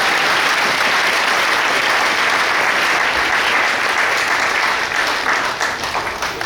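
A church congregation applauding during a sermon, loud continuous clapping from a crowd that holds steady and tapers slightly at the end.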